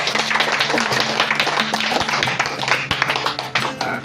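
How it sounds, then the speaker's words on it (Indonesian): Attendees at a recess meeting with a Sikka Regency DPRD member clap their hands, a scattered mix of sharp individual claps and group clapping, with music playing underneath. "Dan sekali lagi untuk itu kita tepuk tangan."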